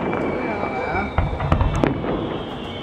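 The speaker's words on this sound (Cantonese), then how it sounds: "我想睇睇佢哋煙花。" New Year fireworks on Yas Island burst in a few sharp cracks and pops against a noisy crowd, with people talking nearby.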